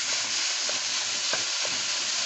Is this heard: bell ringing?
no